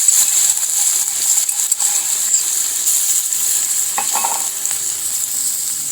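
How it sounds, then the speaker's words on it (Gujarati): Ginger, chili and garlic paste sautés in hot oil in a village-style kitchen, giving a steady bright sizzle throughout with occasional stirring scrapes and clinks of a utensil against the pan. "સરસ રીતે આપણે સાતળી લઈશું આ પેસ્ટને."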